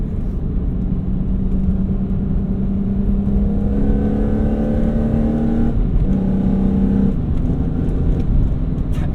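A high-mileage BMW E46 M3 with an SMG gearbox pulls hard through the gears, its loud rising drone climbing in pitch, a brief dip at a shift, then climbing again.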